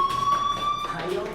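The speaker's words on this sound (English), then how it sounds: "Hey, do you hear that fire alarm?" Fire alarm ringing in the video game Life is Strange at Blackwell Academy, a thin steady electronic tone under a voice speaking in the scene.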